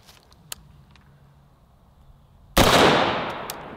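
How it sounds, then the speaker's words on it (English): A rifle round fired into a pork shoulder cracks out as one sudden loud shot, its blast and echo fading over about a second after quiet ambient noise. "if I place my shot right, we should be able to hit meat and bone and see what this round does"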